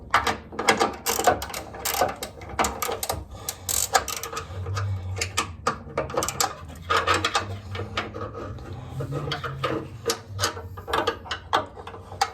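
Bolts being tightened on the motor mounts of a first-generation classic Pontiac Firebird, heard as close, repeated ratcheting clicks and metallic scraping in irregular bursts, with a low rumble underneath.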